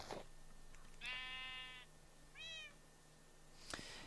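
A Minecraft cat meows twice in clear, bright, harmonic calls about a second apart, close and alone, framed by a couple of short sharp clicks.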